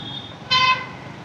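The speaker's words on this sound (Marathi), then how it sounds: "अरे हा कोण मागणं हॉर्न मारते" One short vehicle horn honks from close behind on a busy road, standing out briefly over steady traffic noise during a motorcycle ride.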